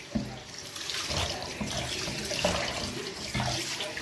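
Pig trotters are washed in water for a second rinse, with running water splashing and sloshing close by in bursts and small knocks as the meat is handled, with no talking.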